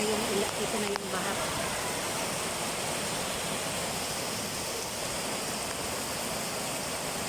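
Typhoon Carina floodwater in Marikina rushes in a loud, constant roar of flowing water, with a voice speaking briefly over it.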